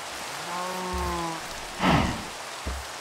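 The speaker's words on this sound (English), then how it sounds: "I wish it stopped raining." Steady rain patters in the background in Minecraft, joined by a short tonal chime and a brief whooshing burst.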